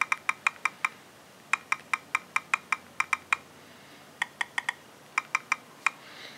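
One-handed typing on the touchscreen keyboard of an HTC One phone, sharp evenly spaced key clicks in quick runs separated by short pauses, close and crisp with no speech.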